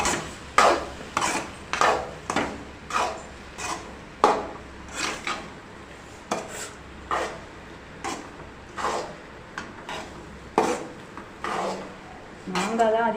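Mango rice being stirred in a pan with a utensil, giving a steady run of scraping, clinking strokes at a regular rhythm, close and fairly loud, with no talking over it.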